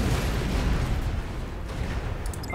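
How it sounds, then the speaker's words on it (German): Explosions rumble in the strategy video game Anno 2205, a continuous deep booming wash with low-end thuds, and a few faint electronic chirps near the end. "Schön mit den Explosionen, das ist echt herrlich."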